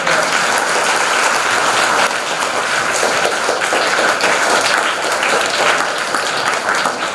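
A school audience claps for a teacher at an English games event at Anglo Urdu High School, Nandurbar: dense, continuous applause, loud and even for the whole stretch.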